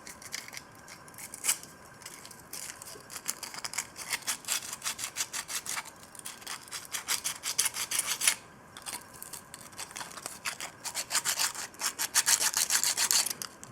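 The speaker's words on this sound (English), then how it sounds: "So I'll just, as I say, a bit of sandpaper around there." Sandpaper rubbed by hand over a Lotus Excel wiper motor gives quick, irregular scratchy strokes, close and fairly quiet, in bursts that grow busier toward the end.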